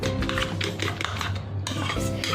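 Spoon clinking and stirring in a bowl as omelette batter with green chili is mixed, a quick run of repeated scraping taps close by with no voices.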